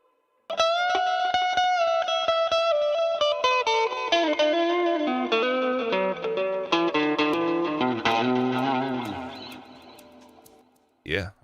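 Music mix with reverb brought back up, a sustained melodic line and chords ringing into a spacious, washed tail, loud and steady before fading out near the end.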